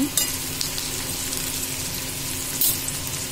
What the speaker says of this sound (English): Allow it to fry for some time. After a little frying,